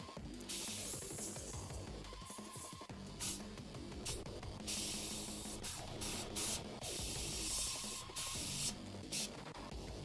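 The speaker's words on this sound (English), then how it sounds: "Just feels like it's spraying a little bit darker than I'm used to." An airbrush sprays NATO brown paint onto a model AMX-30 B2 Brennus tank in repeated bursts of faint hiss separated by brief pauses, with light mechanical clicks between them.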